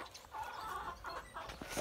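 Bantam chickens, two small cockerels and a hen, cluck in short, soft bursts, faint and close together over a quiet background.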